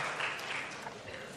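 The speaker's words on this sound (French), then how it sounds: "Vous pouvez applaudir Antoine aussi" Audience applause at a French history lecture about the battle of Lugdunum, a brief, dense patter of many hands clapping, fairly quiet and steady, with no talk over it.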